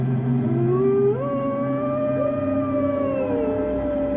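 A wolf howls in long, sustained tones that rise and glide, loud and alone against quiet background.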